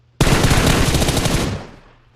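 A single sustained burst of gunfire in the PUBG Mobile battle game, loud and close, rattling for about a second and a half before trailing off into a short decay, with no talk over it.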